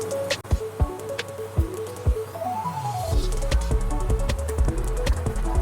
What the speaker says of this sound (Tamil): நம்ம அம்மா இப்போ வந்து கொழுக்கட்டையெல்லாம் அதில் போடுறாங்க பாருங்கள்